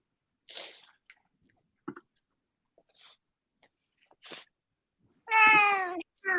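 A Siamese cat meows several times close by, short scattered cries building to one long, loud, drawn-out yowl, with brief chewing-like clicks between and quiet gaps.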